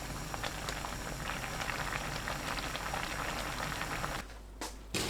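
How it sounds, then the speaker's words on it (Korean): Taro stems blanch in an uncovered pot of boiling water, giving a steady dense bubbling and roiling wash that continues with little variation, then briefly drops away near the end. "토란대 넣고 3분 데쳐주세요. 뚜껑 닫지 않습니다."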